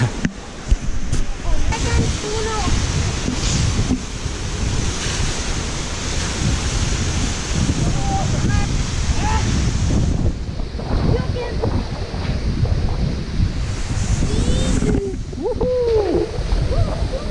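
Jogini Falls waterfall in Manali rushes with a dense, continuous roar close by, mixed with gusty wind buffeting, while people talk faintly under the noise.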